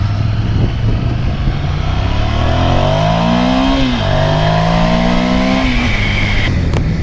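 Honda motorcycle engine revving hard during a road ride, rising through gears up to the rev limiter with climbing tones, a brief drop and another climb, loud and close over wind noise.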